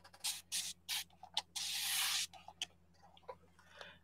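A spray bottle mists onto a foil collage in several short, close puffs, followed by one longer spray, then light tapping and rubbing sounds.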